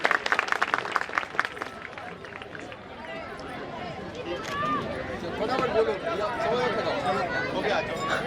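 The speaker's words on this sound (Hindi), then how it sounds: "सभी जोरदार तालियों से स्वागत करें।" An audience claps for a medal presentation at a Republic Day school event. The dense applause is loud at first, then fades within a few seconds into crowd chatter and murmuring voices.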